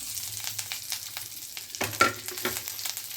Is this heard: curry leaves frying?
yes